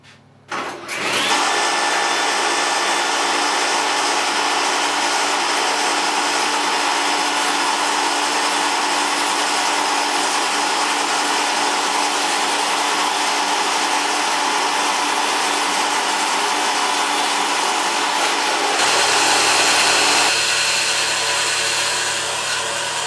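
A table saw runs through wood, trimming about a quarter inch of material. It starts abruptly, holds a loud, steady whining roar for roughly twenty seconds, then shifts in tone near the end as the cut finishes.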